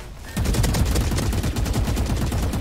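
Rapid automatic gunfire from Valorant rattles in a continuous, dense burst, loud and close, with no talking over it.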